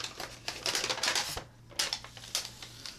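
Adhesive backing peeled from a folding photo frame, giving a run of close, crackly tearing bursts with short pauses between them.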